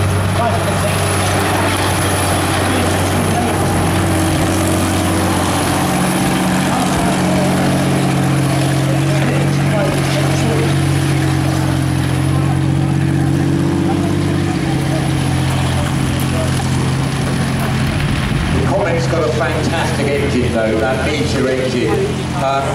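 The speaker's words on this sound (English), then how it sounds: "there's 2 little fishtail exhausts, but basically there's no silencer at all, and so you get that lovely rumble of the big petrol meteor as it goes around" A Comet tank's big Meteor petrol engine, run through two small fishtail exhausts with no silencer, rumbles loud and low as it drives around an outdoor show ground, its steady throb under continuous commentary.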